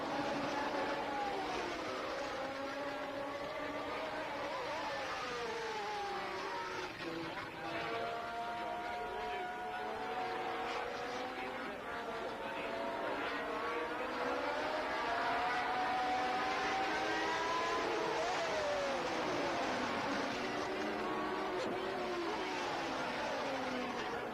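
Formula 1 race cars roaring around the Anderstorp circuit at the Swedish Grand Prix, engine notes rising and falling as several cars pass in succession, blended with crowd and commentary-like background voices throughout.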